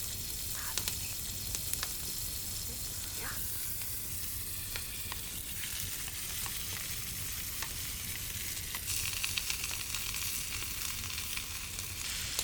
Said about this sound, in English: We'll cook this meat in a hot cast iron pan with some butter.